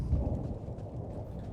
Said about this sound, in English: The storm rages, but here I am, out of the rain.